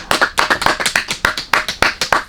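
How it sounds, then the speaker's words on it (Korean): A church congregation at a Christmas Eve service claps together in a steady rhythmic beat, each clap sharp and evenly spaced, close and fairly loud. "감사하며 박수로 마치겠습니다"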